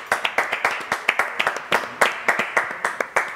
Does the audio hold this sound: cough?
no